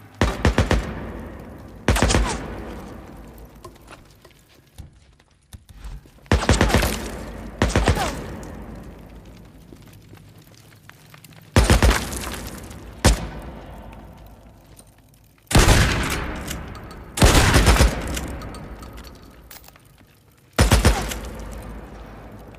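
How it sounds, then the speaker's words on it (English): Loud gunfire from the video game Days Gone, arriving in repeated heavy bursts and single booming shots, each one trailing off before the next volley. "Open fire!"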